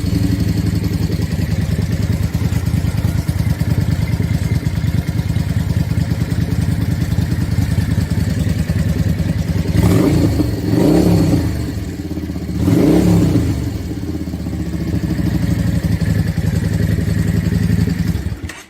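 An engine idling steadily in a loud, rumbling drone, with two brief revs rising and falling midway, close by and alone.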